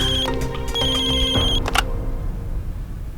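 A telephone ringing at night in an indoor home setting. Loud, tonal electronic ring bursts repeat for about two seconds, then stop, leaving a low room hum.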